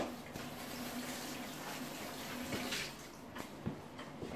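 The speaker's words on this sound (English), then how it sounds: "I wash my hands" Hands being washed under a running tap, a steady soft rush of water with light splashes and occasional sharper drips, fairly quiet and continuous throughout.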